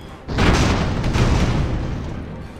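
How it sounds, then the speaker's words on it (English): A heavy explosion in the airship battle game Airships: Conquer the Skies, set off by explosive air tanks, hits suddenly and rolls on as a loud, sustained rumbling boom that slowly fades. "Use explosives to show them why explosive air tanks are a bad idea."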